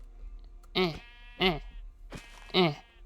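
Three loud, close sheep bleats from a Minecraft sheep, each a short wavering cry separated by brief pauses, over a quiet background.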